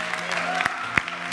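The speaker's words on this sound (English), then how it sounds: "A big round of applause for this young guy." Brief burst of audience applause at a live variety show open stage, scattered claps and crowd noise with a few sharp individual claps standing out.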